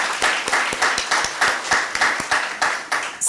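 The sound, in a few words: audience applause after a talk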